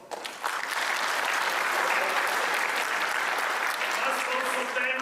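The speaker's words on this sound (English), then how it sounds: "A good round of applause." An audience at an online service launch event breaks into applause, a dense, steady burst of clapping that starts abruptly and holds at full strength for several seconds.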